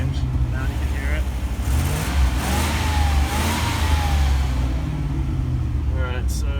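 A 1988 Land Rover Defender 127 engine rumbles and revs up and down while warming up, loud and close, with people speaking over the engine noise.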